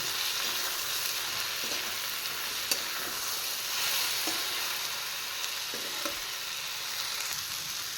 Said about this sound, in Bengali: দেব কুচিয়ে রাখা রসুন কুচিয়ে না ঘষে রেখেছি এবার আরেকটু ফ্রাই করব